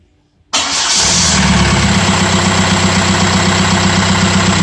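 Audi allroad 2.0 TDI diesel engine with a freshly replaced starter cranks and catches after a moment of quiet, then settles into a steady, close, rumbling idle.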